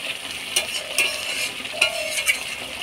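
Stuffed pointed gourd dorma with prawn filling, finished with garam masala and ghee, frying in a pan under a constant bright sizzle, with a spoon stirring in a few soft, evenly spaced scrapes, close up.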